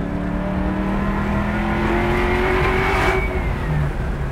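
A 1969 Chevrolet Camaro accelerates hard, its loud engine note climbing steadily in pitch as it revs up, close by and continuous with no talking.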